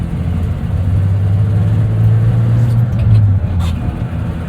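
A manual 1993 Ford F-150 with an inline-6 engine accelerates while merging onto an interstate, its low engine drone steady and loud from inside the cab, with a faint voice underneath.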